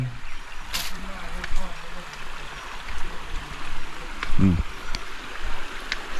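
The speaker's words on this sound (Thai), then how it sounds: "น้ำไหลงาม" A stream flows steadily in the rainy season with a continuous rushing wash, heard outdoors beneath someone talking nearby.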